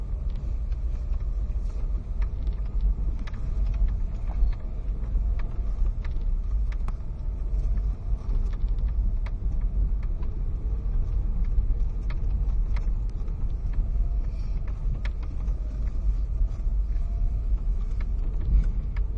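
A Dacia Duster descends a rough, rutted road in first gear under engine braking, with a steady low engine drone, cabin rumble and scattered rattles and knocks from the car.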